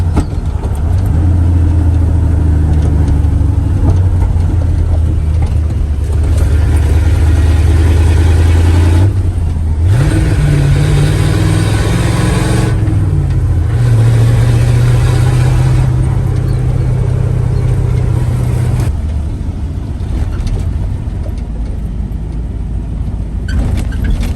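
A loud 1989 dump truck engine runs steadily up close through a long stretch, downshifting as the truck slows for a turn. The engine note drops and shifts several times, and no one talks.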